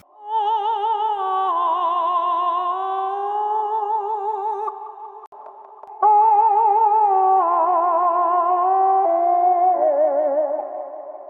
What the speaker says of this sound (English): I added this lo-fi saturation preset from Butch Vig Vocals.